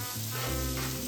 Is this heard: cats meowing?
no